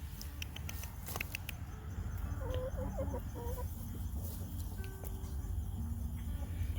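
Chickens in a backyard garden give soft, brief clucks at a moderate distance over steady outdoor background noise and a few sharp clicks.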